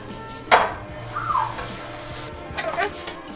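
Onions and chopped meat toast in butter in a pan, making a soft background sizzle punctuated by a clank of utensil against the pan and scraping stirs, heard up close.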